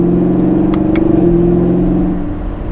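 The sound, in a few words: 2019 Chevrolet Camaro SS exhaust during gear changes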